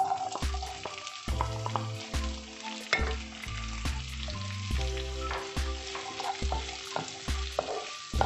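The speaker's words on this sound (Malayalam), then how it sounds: "ആ സമയത്ത് നമുക്ക് ഇതിലേക്ക് ഉള്ളി ഇട്ട് കൊടുക്കാം." Onions sizzle and fry in a hot pan while cooking restaurant-style chilli chicken. Steady sizzling comes with rhythmic scraping and tapping from stirring, close up, with no voices.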